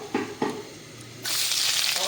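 Chicken frying in a pan: two light clinks, then a loud, steady sizzle that starts abruptly and continues to the end.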